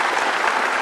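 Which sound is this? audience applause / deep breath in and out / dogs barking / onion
audience applause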